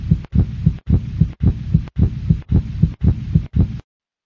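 Human heart beating in a steady rhythm of about eight thudding beats, low and close, then silence.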